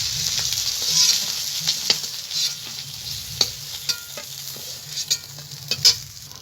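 Long potato strips fry in hot oil with a steady sizzle, punctuated by sharp scrapes and clinks of a spatula stirring them in the pan, close and alone with no voices.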